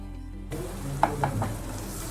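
Pav bhaji with masala is stirred in a hot pan, a soft sizzle with a few sharp scrapes and taps of the spoon, close and without talk.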